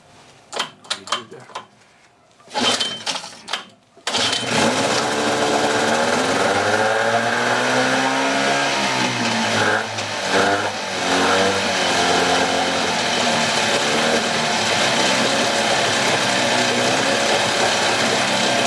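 A 15HP Evinrude outboard motor, running with its cover off, catches after a few sharp starting clatters and settles into a loud, steady mid-pitched drone that wavers as it revs up and down.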